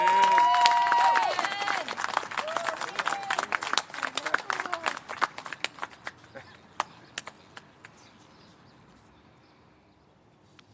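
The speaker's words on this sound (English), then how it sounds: "a big round of applause for Jaden Jonathan Arias Perez." Audience applause at a high school class of 2021 graduation ceremony, loud clapping with cheers and whoops that gradually dies down to a few scattered, isolated claps.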